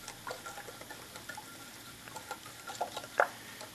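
Rice vinegar being stirred into rice syrup sauce, soft scraping and light ticking taps of a utensil against the pan, faint and irregular, with a brighter clink near the end.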